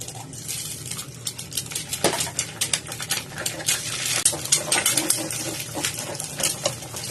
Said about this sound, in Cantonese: 咁我哋嗰陣咧，先炒1隻蛋先